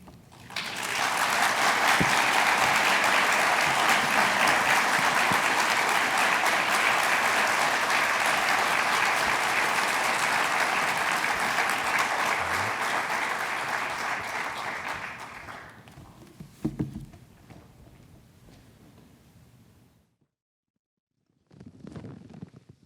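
A large audience gives thunderous applause for keynote speaker Rev. Dr. Starsky Wilson, loud dense clapping sustained for about fifteen seconds before fading out, followed by a few scattered thumps and a brief silence.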